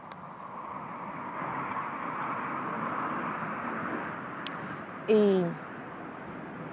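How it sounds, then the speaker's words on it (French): A large airplane passes overhead during a guided meditation, a broad, distant rumble that swells slowly and then fades, followed by a brief sharp sound near the end. "il y a un gros avion qui passe"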